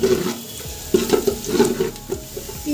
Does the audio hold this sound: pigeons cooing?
no